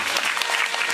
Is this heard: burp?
no